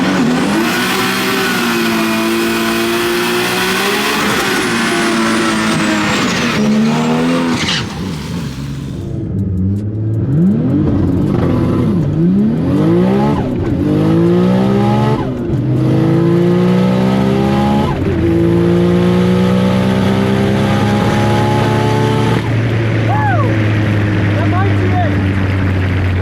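A Nissan Skyline sedan tears down a drag strip at a GT-R festival, the engine roaring loud and close through rapid upshifts with rising and falling pitch sweeps, then easing off into a lower drone. Voices talk over it.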